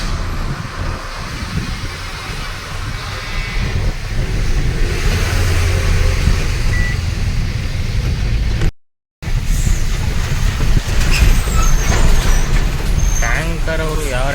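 An empty 14-wheel truck rolling along a highway, heard from a nearby vehicle as a loud, continuous roar of engine and road noise with heavy low rumble, a brief dropout partway, and voices talking over it.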